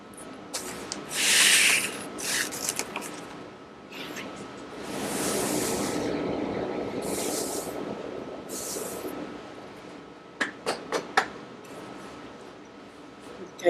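Graphite is rubbed off paper to lift the excess from a toned drawing, giving soft dry brushing strokes in bursts with a longer steady rub in the middle, then a few quick sharp scrapes near the end, recorded close and fairly quiet.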